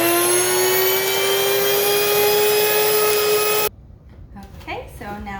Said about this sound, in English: Okay, so now our flour is done milling.